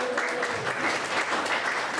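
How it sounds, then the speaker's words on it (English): Applause for the Mayor in a room at a social evening, a short steady patter of many hands clapping at moderate volume, lasting about two seconds with no voices over it. "Let's have a little round of applause for the Mayor."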